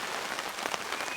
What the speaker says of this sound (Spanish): Y que la lluvia también, por el tema del ruido sobre la casa